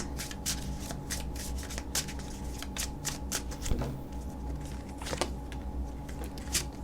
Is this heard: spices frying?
no